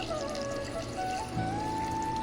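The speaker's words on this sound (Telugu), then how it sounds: "ఇందులో ఇప్పుడు వాటర్ యాడ్ చేసుకుందాం" Water pours steadily into a pot of thick dal cooking with ghee, its pitch rising as the pot fills, close and continuous for about two seconds.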